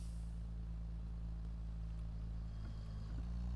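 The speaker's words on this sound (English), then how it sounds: "No, it's just the exhaust on this thing." A vehicle's exhaust in the driving game Drive Beyond Horizons idles as a low, steady droning rumble, fairly quiet and unbroken, with no one talking over it.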